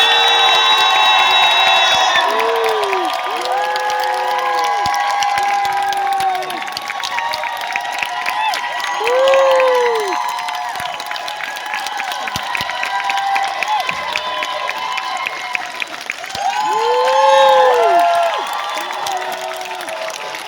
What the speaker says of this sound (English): Please give me a huge round of applause for Tim the Opposite and Maggie Lawson!